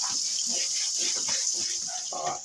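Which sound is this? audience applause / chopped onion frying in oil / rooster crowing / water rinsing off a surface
water rinsing off a surface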